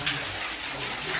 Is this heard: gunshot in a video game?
no